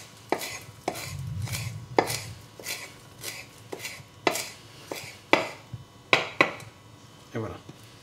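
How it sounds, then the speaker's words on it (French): A knife coarsely chops onion on a board for onion fritters, giving a steady run of sharp close thuds about every half second, with a few quicker double strikes and faint kitchen noise between. "Alors avec un couteau c'est plus pratique. Voilà, vous venez le hacher grossièrement."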